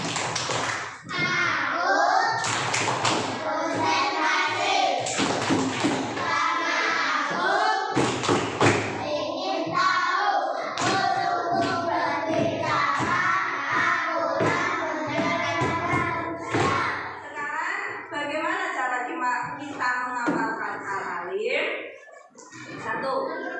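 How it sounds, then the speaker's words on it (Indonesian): A class of schoolchildren performs a rhythmic concentration clapping chant, with sharp patterned claps and thumps keeping time while young voices chant along throughout. "Sekarang kita tepuk konsentrasi dulu."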